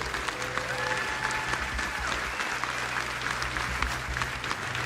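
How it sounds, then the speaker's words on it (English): Steady applause from a crowd, dense clapping filling the whole stretch at an even level without pause. "Let's have a round of applause for that."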